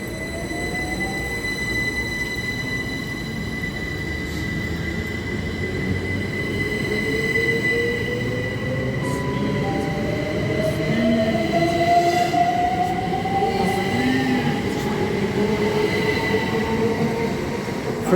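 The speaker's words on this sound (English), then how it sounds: "going up now is the 1043 Great Western Railway service to Bristol Parkway" A Great Western Railway Class 387 electric train pulls out of Reading station, its motors rising in a slow whining sweep while wheels squeal and rumble steadily nearby with no talk over it.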